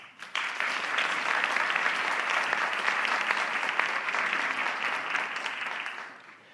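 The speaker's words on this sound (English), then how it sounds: "Please join me in a round of applause for all of the contestants." An audience at a Villanova University graduate Three Minute Thesis competition applauds the contestants, dense clapping that starts abruptly, holds steady and fairly loud, then fades out at the end.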